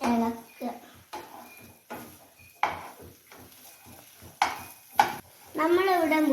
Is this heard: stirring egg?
yes